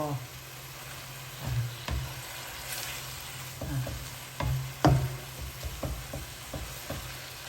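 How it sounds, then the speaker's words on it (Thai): Noodles with sauce being stir-fried in a pan over gentle heat, a steady soft sizzle with scattered scraping stirs and clicks, close and moderate in level. "เวลาผัดไม่ต้องใช้ไฟแรงหรอกนะค่อยๆไปเรื่อยๆ"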